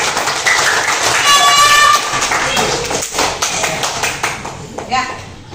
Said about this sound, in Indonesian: tepuk tangan buat Mas Amri